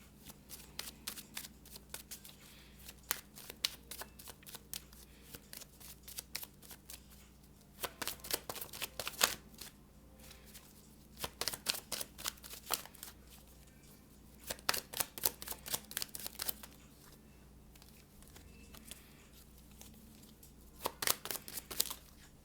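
Tarot cards being shuffled in repeated bursts of rapid riffling and flicking, close and crisp, with quieter handling and pauses between rounds.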